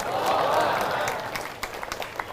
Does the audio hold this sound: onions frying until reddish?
no